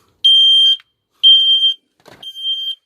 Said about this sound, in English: what we've got a load of this time again, is smoke alarms. Still have the batteries in.